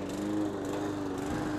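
A lawn mower engine runs with a steady, close droning hum while mowing a fenced lawn.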